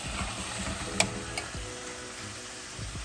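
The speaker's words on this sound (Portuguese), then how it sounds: "A Bate, ela coloca um tanto bom de shoyu para ficar com um caldo e meio que ir cozinhando nesse caldo." Konnyaku simmering in a soy sauce broth, giving a steady low sizzle and bubbling with a few soft stirring clinks and one sharp tap near the start, close and moderately quiet, no talking.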